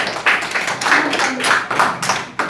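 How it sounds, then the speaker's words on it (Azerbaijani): A group of children clap their hands in a quick, uneven rhythm to support the boys in a classroom quiz contest, close and fairly loud. "Gəlin oğlanlara dəstək üçün əl çalaq"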